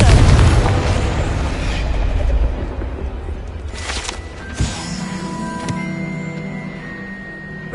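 A deep explosion from the Confringo blasting spell in Hogwarts Legacy opens loud and booming, then rumbles and fades while smaller pops and game tones follow.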